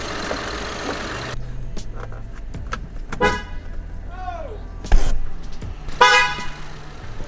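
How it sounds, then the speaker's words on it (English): Horn on a rebuilt 2019 Ford Explorer honking in short, loud blasts in a garage over a low idling engine, with a person speaking between the honks. "Oh, that's kind of a loud horn."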